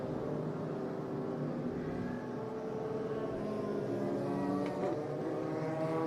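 A race car is restarted out on the track at a Midwest Legends Shootout, its engine droning steadily with a rising rev near the end, carrying continuously across the whole stretch.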